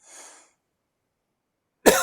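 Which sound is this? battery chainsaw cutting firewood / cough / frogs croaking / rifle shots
cough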